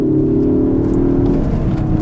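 A 2016 Ford Focus ST accelerates hard in first gear, its engine droning loud and steady as the revs climb, heard close from inside the car with no talking.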